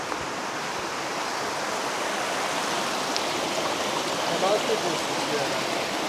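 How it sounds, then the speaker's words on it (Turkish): A river flows steadily and loudly nearby at Yedigöller, a continuous rushing wash of water with no pause. "Güzel bir nehrin ortasındayız."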